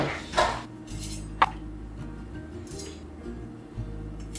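A metal baking tray of oat shortbread cookies goes into an oven, with a couple of sharp clanks and a brief rattle against the rack over a low steady hum, close by.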